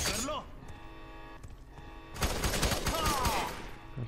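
Rapid gunfire bursts in the first-person shooter game F.E.A.R. 3, set in a prison, starting quietly and growing into loud, dense volleys in the second half while someone talks over them.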